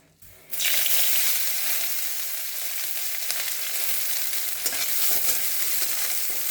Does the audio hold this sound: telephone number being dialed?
no